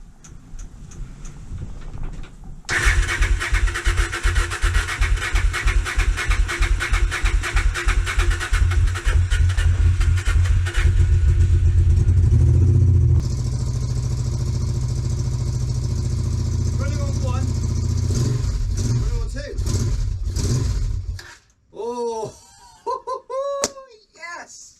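A Honda Bros (Hawk GT) motorcycle engine cranks over and over on its starter in a long, loud, rhythmic churning run that sputters and shifts partway through, then cuts out, followed by brief clanks and a short voice.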